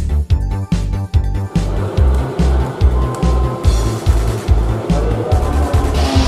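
A car drives along with a loud, close engine drone broken by regular rhythmic thumps and gear-change dips, then settles into a steadier road roar with tire noise and no talking.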